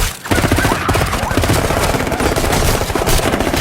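Dense automatic gunfire in a film action scene rattles in loud, continuous rapid bursts, machine-gun volleys overlapping throughout with no pause.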